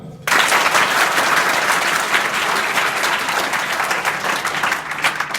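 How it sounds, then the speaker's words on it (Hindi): Schoolchildren at Purva Madhyamik Vidyalaya in Kolisa, Azamgarh burst into loud, vigorous applause after a brief silence, a dense and steady roar of many small hands clapping that holds strong for about five seconds. "एक जोरदार ताली।"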